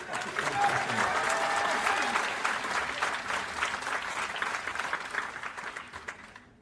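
A general assembly audience applauds as two texts are adopted unanimously by acclamation, sustained dense clapping from a large crowd that gradually fades out over several seconds.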